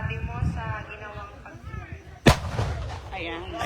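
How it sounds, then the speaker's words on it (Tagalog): A Philippine Army artillery piece from an infantry battalion test-fires its third round during a combined arms field exercise, one sharp, loud blast with a rumbling tail, set against ongoing talk before and after the shot. "pumutok na po yung pangatlong bala ng ating"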